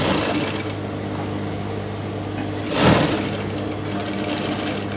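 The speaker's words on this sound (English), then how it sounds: "So I'll just place this under my machine now, and then I'm going to sew the curve." A sewing machine stitching a curve in fabric for a puff sleeve, a close steady mechanical whir with a brief louder surge near the middle.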